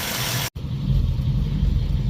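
1951 Mercury engine with straight pipe exhaust, a steady low rumbling idle heard close by after a brief cut near the start, fairly quiet and even with no talking.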